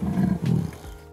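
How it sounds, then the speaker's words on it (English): A leopard roars, a deep, rasping, close and loud call with a couple of grunting pulses over about a second, then fading out. "Leopards can roar just like lions can. The roar of a leopard isn't as loud as that of a lion,"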